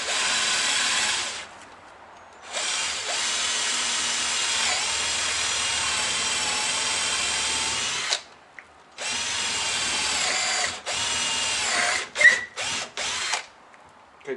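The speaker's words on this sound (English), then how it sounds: "I'll just drill that hole in there" A power drill bores a hole in wood in a shed during boat work, several sustained high whining bursts separated by short pauses, with the bit pulled out and restarted in brief stuttering runs near the end.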